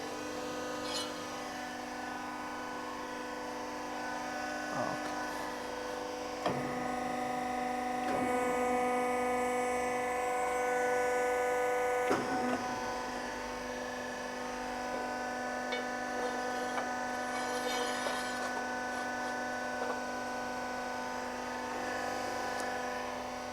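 A TTMC M55 hydraulic ironworker runs its shear function, giving a steady mechanical hum with tonal whine and a few sharper clunks and transients at intervals, fairly close and without speech.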